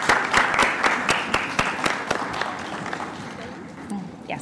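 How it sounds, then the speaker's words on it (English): Applause at an awards dinner: a round of clapping with crisp individual claps close by that thins and fades after a couple of seconds, with voices under the tail. "A round of applause again."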